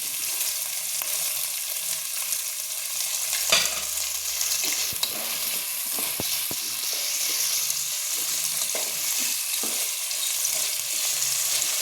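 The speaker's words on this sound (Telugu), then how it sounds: "ఇలా ఒక 5 మినిట్స్ మనం ఆనియన్స్ని బాగా ఫ్రై చేసుకోవాలి." Onions frying in a pan with a sprinkle of salt, stirred for several minutes: a continuous close sizzle with scattered spatula scrapes and taps, no talking.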